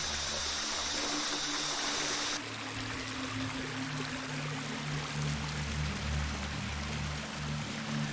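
Sarad waterfall in Betul's Satpura hills pours steadily, a loud continuous rushing wash of water with no voices, its tone shifting slightly partway through as the vantage changes.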